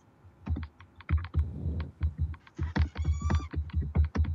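Fast, uneven clicking of computer keyboard keys, close and clear, with bursts of keystrokes and a few heavier key thumps over a faint background hum, no talking.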